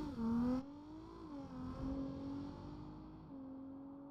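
Car engine revving in the BeamNG.drive driving game, in a BMW versus Audi matchup, a sustained droning rev that rises and dips in pitch, steady and fairly loud with no talk over it.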